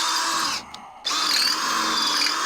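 A power drill grinding off a steel bolt head on a Freightliner FLD truck, whining loudly and steadily up close, with a short break in the middle where the motor drops out before it starts again.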